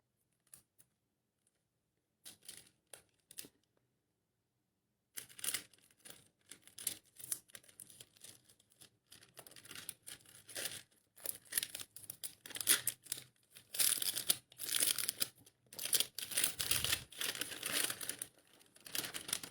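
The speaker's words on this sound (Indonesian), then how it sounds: "Nah, ini udah kebuka boxnya, plastiknya." Plastic wrap is torn off a Samsung Galaxy S21 FE box. After about five seconds of near silence with a few faint ticks, close crinkling and ripping begins, rising into loud, irregular tearing bursts.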